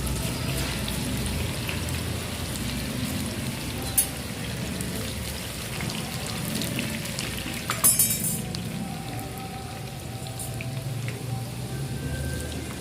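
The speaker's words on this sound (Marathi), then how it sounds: "आता हे तळून बघायचं म्हणून गरम झालेल्या तेलामध्ये तळायला टाकलं." Grated banana for chips frying in hot oil, giving a steady close sizzle with fine crackles and a couple of brief clinks over it, with no talking.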